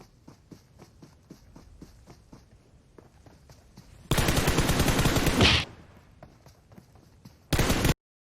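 Gunfire in the video game PUBG Mobile arrives as two loud bursts of rapid shots, one long and one short, after a stretch of soft, regular in-game footsteps.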